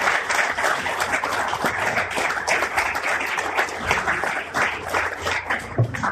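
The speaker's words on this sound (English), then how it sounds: "Join me in giving a round of applause for our panelists." An audience applauds a finance panel at the end of an options trading discussion, with a close, dense burst of clapping that holds steady for several seconds and has no talking over it.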